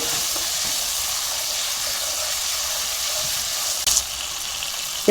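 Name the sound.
water poured onto sizzling fried garam masala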